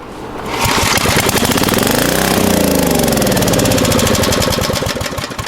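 An abandoned Generac generator's small engine catches after a single pull and runs loud and close with a rapid, rough knocking chatter, its pitch rising and then falling before it begins to die away.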